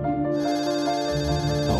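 A telephone rings in the Memento Mori video game, a steady electronic ringtone with sustained tonal repeats that fill the short stretch alone, loud and close, with no talking.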